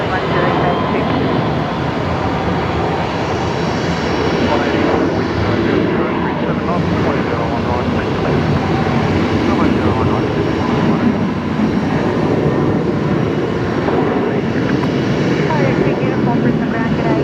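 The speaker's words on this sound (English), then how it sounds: "So there's that One World 330 coming along taxiway Bravo there." A Oneworld Airbus A330 taxis along a taxiway at Brisbane Airport at night, its engines giving a continuous, even broadband roar that holds steady throughout.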